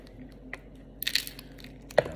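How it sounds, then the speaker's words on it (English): A crunchy keto taco shell filled with shrimp is bitten into, giving a few short, close crackling crunches in an otherwise quiet setting. "When I do the shrimp tacos, I love my tacos crunchy."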